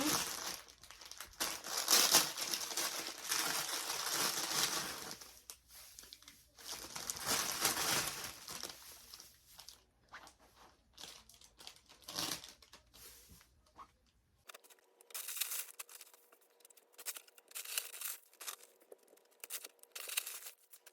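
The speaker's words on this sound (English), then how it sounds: "I'm gonna go ahead and cut all these tags off of each basket and put some of these shredded papers in" Scissors snipping tags off gift baskets while shredded paper filler is handled, heard as close, crinkly rustling and crumpling in irregular bursts that turn sparser and lighter toward the end, with no talking.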